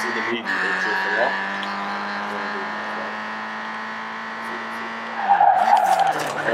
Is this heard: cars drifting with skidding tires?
yes